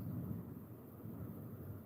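Deep rumble of thunder rolling through steady heavy monsoon rain in Latur, a continuous low roar with rain hiss, no voices.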